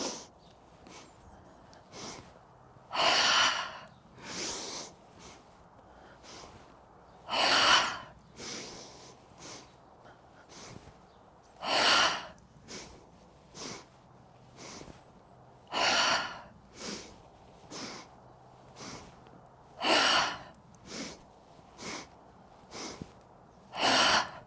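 Slow, deep breathing in a morning yoga flow, with long audible inhales and exhales that rise and fall in a steady rhythm of about a dozen breaths, close and clear with no talking over them.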